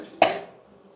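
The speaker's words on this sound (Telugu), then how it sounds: "దగ్గు వచ్చేస్తుంది" Single sharp cough from a woman with a sore, congested throat at home, a sudden close burst that trails off quickly into quiet.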